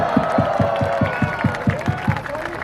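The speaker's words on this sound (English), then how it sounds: "Let's give him a round of applause." Crowd at an Andrew Yang campaign rally in Boston claps and cheers in a steady burst, with rhythmic clapping and whoops under a loud amplified voice talking throughout.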